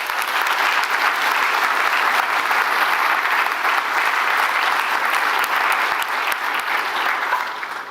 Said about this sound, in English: Let's give her a big clap anyway.